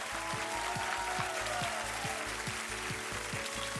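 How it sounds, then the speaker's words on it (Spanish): Audience applause for the children on a Saturday television talent show, steady clapping heard under a loud rhythmic music bed throughout. "¡Fuerte el aplauso para ellos!"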